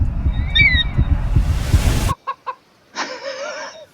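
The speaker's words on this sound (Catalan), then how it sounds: "Pollastre." A chicken clucks and squawks in a few short bursts after a cut, starting with quick clucks and ending in a longer rising squawk, close by and fairly loud.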